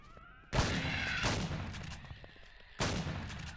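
Shotgun blasts in the sci-fi survival game Empyrion Galactic Survival, two loud booming shots about two seconds apart, each with a short decaying tail.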